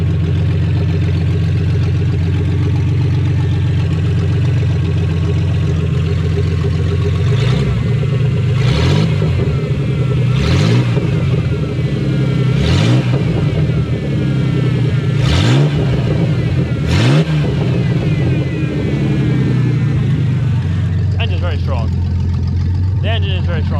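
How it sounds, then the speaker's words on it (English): A car engine revs in several sharp bursts after a radiator replacement, rising and falling over a steady low idle, close and loud, with a person talking over it. "The engine is very strong in this thing, I will say."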